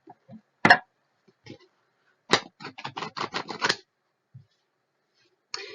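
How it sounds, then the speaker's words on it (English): A tarot card deck is shuffled and cut, with a sharp snap followed by a quick burst of riffling card clicks, brief and close against near silence. "I'm going to run and then I'm going to cut the deck."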